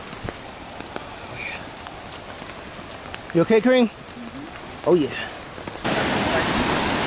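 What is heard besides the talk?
heavy rain in a rainforest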